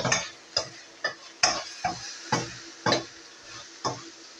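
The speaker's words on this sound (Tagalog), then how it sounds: "haluin na natin ito guys" A utensil scrapes and knocks through a frying dish seasoned with oyster sauce and pepper, about ten sharp separate strokes at an uneven beat over a soft sizzle, close and with no talk.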